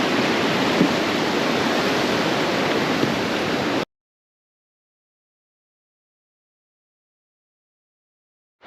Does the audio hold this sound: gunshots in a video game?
no